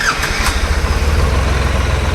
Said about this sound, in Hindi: कुछ इस प्रकार से इस ट्रैक्टर की आवाज़ है